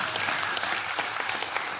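A church congregation breaks into applause, a dense, steady clatter of many hands clapping together for a couple of seconds with no voices over it.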